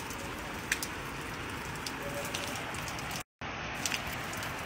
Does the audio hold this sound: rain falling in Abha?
yes